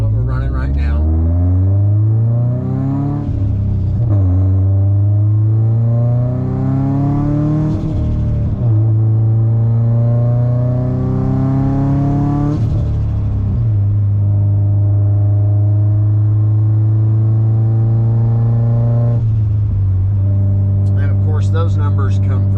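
A Subaru with a rotated PT6262 turbo on about 80% ethanol revs hard on a dyno, the engine note repeatedly climbing in pitch and dropping back in several long pulls, loud and close.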